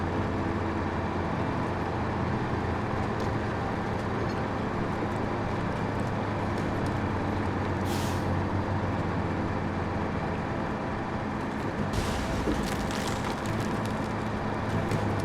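A big truck in a snowy driving video game drones steadily with a constant engine rumble, broken by two short hissing bursts that suggest air-brake releases.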